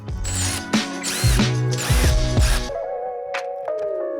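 A ratchet drives a 10mm bolt into a Vicrez V3R-style rear spoiler on a Chevrolet Corvette C8, giving a close run of quick pawl clicks and turning strokes, with a few sharper knocks between bursts. No one speaks.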